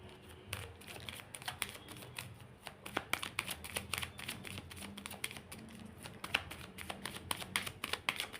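Tarot cards being shuffled up close, a continuous soft riffle of papery flicks and slaps with quick irregular bursts, faint and without talk.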